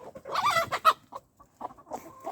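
A broody hen clucking outdoors at a winter dacha, a cluster of loud, close, agitated clucks followed by softer, scattered clucking notes.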